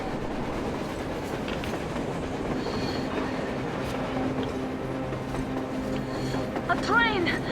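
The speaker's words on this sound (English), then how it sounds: "A damn train on the surface!" A train rolls past on the surface in the Metro Exodus video game, with a steady rumble and rail clatter throughout and a brief metallic wheel squeal near the end.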